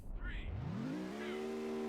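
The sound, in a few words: car engine revving in video game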